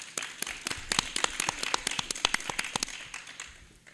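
Scattered hand claps from an audience at a mayoral forum, a quick uneven patter that fades out toward the end, fairly faint and without voices.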